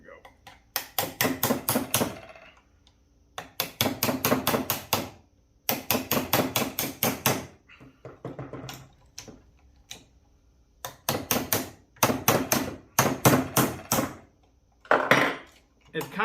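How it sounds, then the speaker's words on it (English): Repeated metal hammer strikes driving a wrist pin out of a 50cc race saw engine, falling in dense bursts of sharp blows separated by short pauses, close and loud. "catch on that wrist pin so that I can hammer it out"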